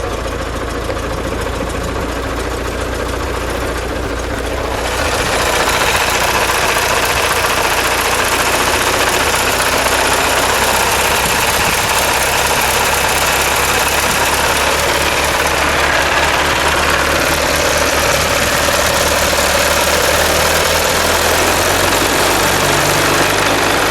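A 1909 Delage Voiturette engine runs at idle with a steady, close mechanical rumble and vibration that swells louder after a few seconds and holds without talk.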